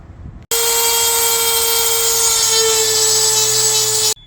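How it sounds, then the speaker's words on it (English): A power tool, likely a drill or grinder, enlarges a hole in a metal roof rack bracket on a 2024 GMC Canyon AT4X. It starts abruptly after a brief quiet moment and then runs as a loud, steady, high-pitched whine for about three and a half seconds before cutting off. "So I'm gonna try to enlarge the hole that is on here, so that way I can slide it down lower."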